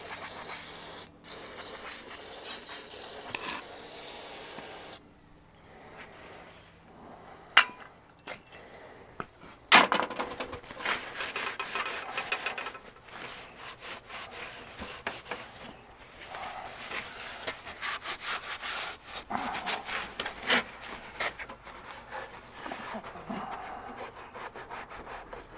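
Dirty steps on a Freightliner FLD truck being scrubbed with cleaner, giving steady rough rubbing and brushing strokes with some spray hiss, close and fairly quiet, with short pauses and no talking.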